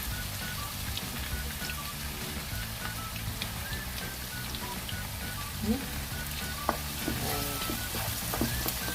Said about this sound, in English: I'm going to add sliced onions, the 2 onions I showed you all.